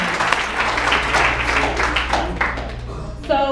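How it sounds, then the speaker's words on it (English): Guests at a 60th birthday roast applaud the roasters with dense, steady clapping that fades a little before a voice cuts in at the end. "Round of applause for them."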